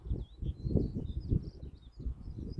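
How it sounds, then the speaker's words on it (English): Faint bird song with short chirping phrases high above a steady, louder low rumble of wind or traffic, the calls distant and intermittent, heard on a ridge hike near Swanage. "Can you hear that bird?"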